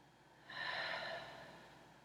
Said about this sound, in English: take your final 3 breaths here